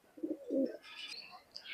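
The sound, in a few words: pigeons cooing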